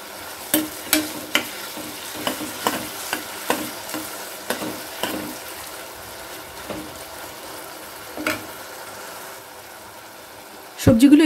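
Chopped vegetables and minced ginger frying in a pan, a steady low sizzle under a regular run of sharp stirring knocks that thin out midway, ending in a louder clatter.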